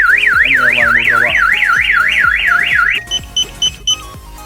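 A Firstech car alarm set off by its DAS-II glass-break sensor when screws are shaken in a mason jar: a loud, steady warbling siren for about three seconds, then four short, evenly spaced chirps.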